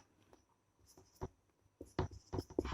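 A pen scratches across paper in short strokes and brief bursts while figures are added up for accounts, close and quiet, with soft pauses between the marks.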